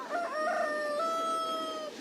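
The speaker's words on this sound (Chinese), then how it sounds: "每天晚上守夜呀，早晨得打鸣一天都不落" A rooster crows once, a single drawn-out cock-a-doodle-doo that rises and then holds a long, steady final note, heard clearly against a quiet background.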